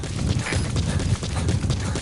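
Horse hooves clip-clopping in a video game's wilderness, a rapid, steady rhythm of hoofbeats on soft ground, loud and close with a low rumbling undertone.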